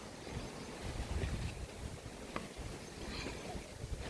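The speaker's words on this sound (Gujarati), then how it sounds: "પવન એટલો છે ને સીડી ઉપર હાલા જાય ને તોય ઉડાડી નાખે એવો પવન છે" Strong gusty wind buffets the microphone outdoors, a dense, roaring rumble that swells and eases throughout, alone with no voices.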